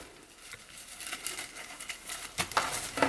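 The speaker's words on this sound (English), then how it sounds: "just pull the deco mesh, make another poof" Deco mesh rustling and crinkling as it is pulled and shaped into poofs on a Christmas wreath, soft close handling sounds in irregular bursts.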